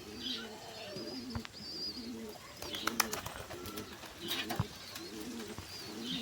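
A pair of domestic pigeons coo in soft, repeated throaty phrases at a steady rhythm, close by, with occasional sharp taps and clinks between the calls.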